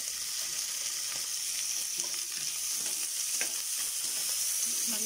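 Curry leaves and onion fry in hot oil with whole spices and green chilli for chicken biryani, giving a constant close hiss with scattered crackles and light spatula scrapes throughout, with no talking.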